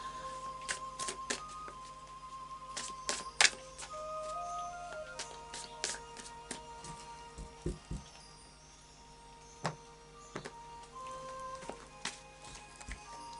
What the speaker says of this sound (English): So I'll just do a final shuffle of the Osho Zen cards.